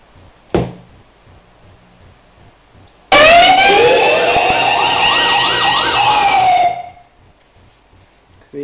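A homemade GSM alarm system sounds a loud electronic siren that wails up and down for about three and a half seconds, cutting in abruptly after a brief click and stopping sharply, with no talk.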